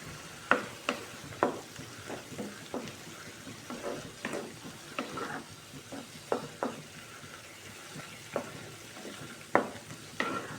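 Ginger garlic paste fries in oil for a cauliflower gravy, giving a soft, continuous sizzle broken by repeated clinks and scrapes of a spoon stirring the pan.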